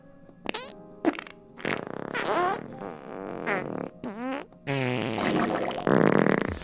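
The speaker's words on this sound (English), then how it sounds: "That's 12 farts for the amount of full arts we got." A rapid series of comic fart sound effects plays alone, loud and close, each one a buzzy, wobbling burst of varying pitch and length with short gaps between.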